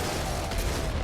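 In the game Nuclear Throne, a weapon fires in a dense, rapid burst of loud, continuous blasts over a heavy, booming rumble.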